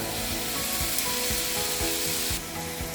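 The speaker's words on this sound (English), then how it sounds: "keep simmer that for a few minutes to let the tomatoes cook" Tomatoes simmering in a beef stir fry pan with salt added, producing a loud, steady sizzle and bubbling crackle close up, with no voices.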